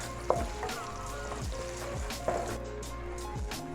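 Green chillies, cut lengthwise, stir-fried and mixed in a pan for restaurant-style chilli chicken with rice: steady sizzling with scraping stirs and a couple of sharp clinks of a utensil against the pan, close and alone.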